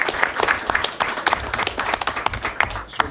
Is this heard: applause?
yes